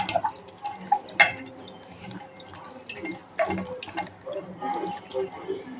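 Water running and splashing while aloe vera pieces are washed in a kitchen, with irregular drips, pours and sloshing bursts, close and moderately loud throughout.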